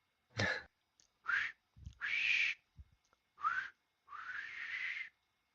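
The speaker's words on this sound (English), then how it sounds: "My whistle might come through better because it's like so shitty." A person whistles over Discord in short, thin, compressed bursts, some rising in pitch, with one longer held note near the end, alone with silence between the phrases.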